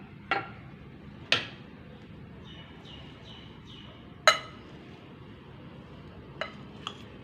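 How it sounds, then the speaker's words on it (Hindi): Chickpea salad with finely chopped cabbage being mixed in a bowl: a few sharp, scattered clinks of a spoon against the bowl over a low background hum, with no talking. "अच्छे से मिक्स करेंगे।"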